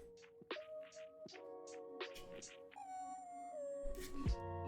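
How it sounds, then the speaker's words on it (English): A dog-like howling cry, heard in a game while building, rising and wavering through several short tonal yelps before settling into a long drawn-out wail, fairly close. "It sounded like a dog howling."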